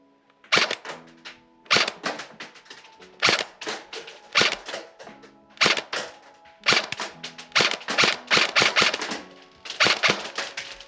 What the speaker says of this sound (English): I'm just going to do a few more shots on semi just to check out that trigger response